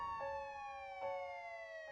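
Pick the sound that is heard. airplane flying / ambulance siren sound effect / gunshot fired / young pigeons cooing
ambulance siren sound effect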